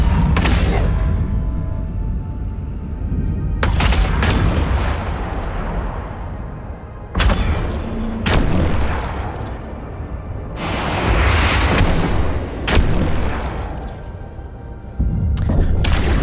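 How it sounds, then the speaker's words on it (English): Missile launcher fire in the EVE Online space game: a series of heavy booming blasts in repeated bursts, each loud and sustained before cutting off abruptly, with short gaps between volleys. "They have got one missile launcher."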